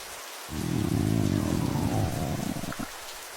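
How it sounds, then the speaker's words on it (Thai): Steady rain pours down after a brief silence, a dense, constant hiss that holds for about three seconds before easing, with no voices. "พี่คะ หนูขอหลบฝนหน่อยได้ไหมคะ"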